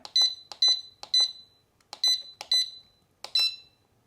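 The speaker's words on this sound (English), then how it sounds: "2 beeps and a green light means this alarm is going to go off until the batteries die" A Mosaic MH306V alarm gives a run of sharp, high electronic chirps, about eight short bleeps in uneven clusters over four seconds. They are close and clear against silence.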